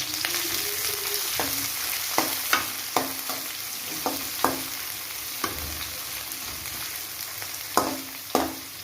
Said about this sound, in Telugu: ఇందులో ఆనియన్స్ అను పచ్చిమిర్చి వేసుకొని ఫ్రై చేసుకోవాలి